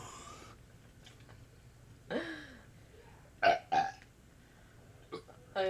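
Several deep, rasping burps from a person taking part in a burping contest, spaced apart. A short one comes first, then louder gurgling belches with a brief quiet stretch between them.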